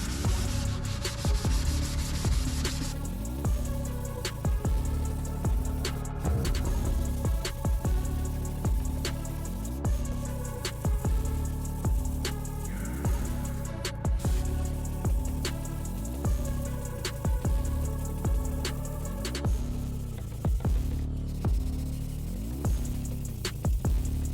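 Steady hand sanding of a car headlight with 600-grit sandpaper, a continuous rasping scrub in quick repeated strokes, close and even throughout, with no voices.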